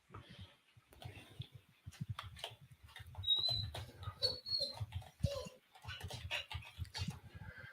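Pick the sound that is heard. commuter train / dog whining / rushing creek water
dog whining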